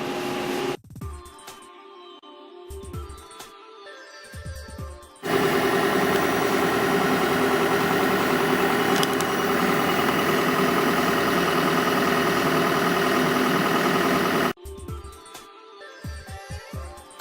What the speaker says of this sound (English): right now the pumps are pumping down the chamber